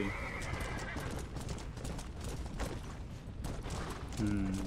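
Horse neighing and galloping in the Red Dead Redemption: Undead Nightmare video game, a steady rush of hooves and game noise with a short whinny near the end, fairly loud throughout.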